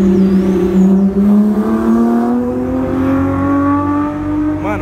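A white Porsche with a loud exhaust accelerates hard up close, its engine note climbing steadily in pitch as it revs, loud and alone with no talk.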